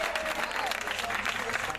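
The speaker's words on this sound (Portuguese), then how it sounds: "E aplausos para o Marcos Paulo" Audience at a welcome gathering for Marcos Paulo in União de Vila Nova, East Zone, clapping in a busy, continuous patter, with some voices and faint tones mixed in underneath.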